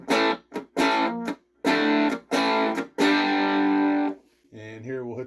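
A clean electric guitar, a 335-style copy with humbuckers on the bridge pickup, plays a few strummed chords with short gaps, ending on a longer ringing chord, sounding thin and tinny through a small cheap amplifier.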